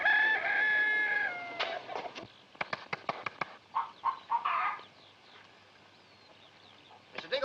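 In a 1950s film soundtrack, a rooster crows first, then hens let out scattered short clucks and squawks in quick bursts, with quieter gaps between them and no talk.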